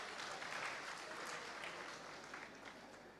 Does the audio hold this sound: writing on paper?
no